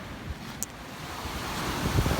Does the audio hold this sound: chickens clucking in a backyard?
no